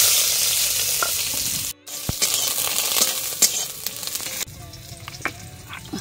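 Sliced eggplant sizzles loudly in a little hot oil. The frying breaks off sharply for a moment, then crackles on with small pops and stirring scrapes, and there is no talk.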